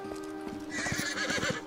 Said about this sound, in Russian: У меня лошадь есть.